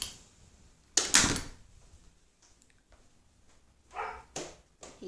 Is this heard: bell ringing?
no